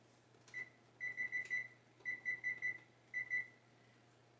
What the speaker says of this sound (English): we're going to set the timer for 10 minutes